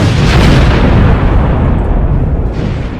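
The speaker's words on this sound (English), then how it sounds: "A catastrophic explosion ripped through the factory." Eight tons of TNT detonate at a wartime shell factory in 1918, heard as a loud, sustained, deep roaring rumble that fills the whole stretch.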